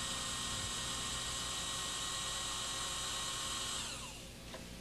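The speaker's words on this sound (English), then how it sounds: "The tool head can be retracted with a speed wrench or electric drill" An electric drill runs steadily as it retracts the tool head of a BB 5000 line boring machine, a constant whining hum that fades slightly near the end, with no talk.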